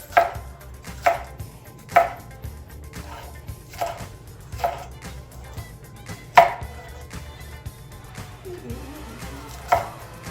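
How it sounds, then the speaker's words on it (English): A knife chops vegetables and slices beef on a cutting board while cooking a gluten-free dinner, giving sharp, evenly spaced knocks about once a second, close and distinct, with a brief rustle of food being moved near the end. "might as well cut all the vegetables"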